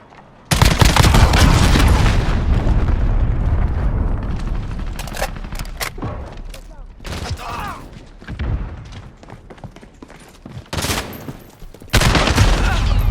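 An enemy cruise missile strike in the Modern Warfare beta brings a sudden loud explosion and rattling gunfire that fade into scattered shots, followed by another heavy blast near the end. A player talks at times.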